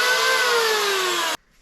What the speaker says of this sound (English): An electric planer.